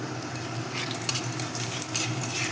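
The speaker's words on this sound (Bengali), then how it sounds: "রসুনগুলো আমি লাল লাল করে ভেজে নেবো" Garlic frying in oil in a home kitchen while being stirred until reddish, giving a steady close sizzle with a few sharper scraping clicks from stirring.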